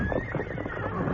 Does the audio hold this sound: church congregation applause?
no